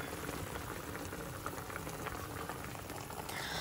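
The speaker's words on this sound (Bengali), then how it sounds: "সিদ্ধ করার জন্য ঢেকে দিয়েছি" Fish for an Italian-style dish simmers in a covered pot, giving a soft, steady bubbling hiss that stays quiet and continuous with no talking.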